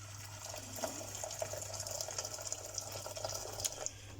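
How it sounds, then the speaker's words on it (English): Water is poured at a stove for soaking wood in a woodcraft workshop, a quiet, continuous gush over a low steady hum, with no voices. "Well, we're going to pour half the water on the stove."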